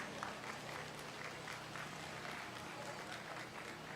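Steady applause from a crowd at a county fair 4-H/FFA market lamb show, continuous clapping without pause throughout, moderately loud and diffuse.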